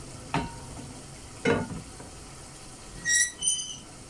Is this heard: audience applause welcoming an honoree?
no